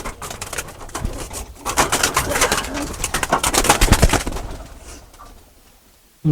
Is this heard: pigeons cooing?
yes